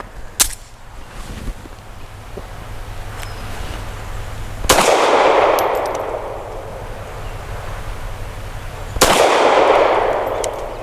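An FN Browning BDA .380 pistol fires three sharp, loud shots about four seconds apart, each with a short reverberant tail, with no talk.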